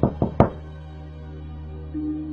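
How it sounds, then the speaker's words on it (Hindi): Three sharp knocks sound on the outer door of a house, quick and close, followed by a low steady hum. "लेकिन कुछ ही देर बाद बाहर का दरवाजा बजा।"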